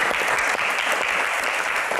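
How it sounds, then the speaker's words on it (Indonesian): An audience at a Q&A event gives steady, dense applause for Bang Rano, a vice-governor candidate; the clapping is loud and continuous throughout and carries no speech. "Baik, tepuk tangan untuk Bang Rano."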